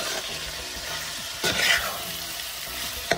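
Food frying in a pot on a stove, stirred with a steady crackling sizzle and a brief scraping stir partway through, close and continuous with no talk.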